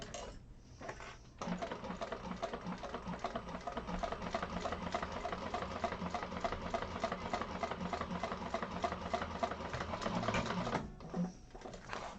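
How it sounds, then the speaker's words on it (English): A freshly oiled sewing machine stitches a handbag, running in a fast, even mechanical rhythm for about nine seconds, with short quiet pauses before it starts and after it stops, close and without talk. "My machine sounds happy because I oiled her today."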